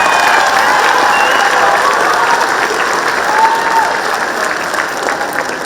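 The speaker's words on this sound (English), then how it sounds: "So they deserve a round of applause." A school band concert audience applauds steadily and loudly, dense clapping filling the hall with a few faint cheers, holding for several seconds before easing slightly toward the end.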